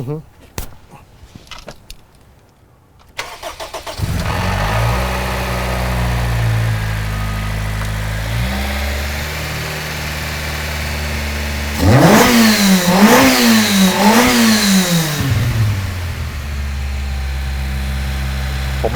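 A car engine starts and settles into a steady idle, then revs up several times in quick bursts before dropping back; people talk over it.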